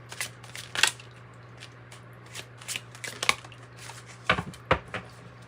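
Tarot cards shuffled by hand: quick, crisp riffling flutters in scattered bursts, fairly close, over a low steady hum.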